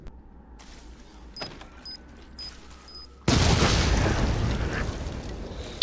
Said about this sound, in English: It only took one of these remote bombs to defeat one of these things, if they're right over it.